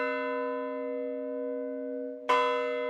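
A large church tower bell in Green Bay rings with a long, humming resonance that slowly fades, then a fresh, loud strike sounds near the end and rings on.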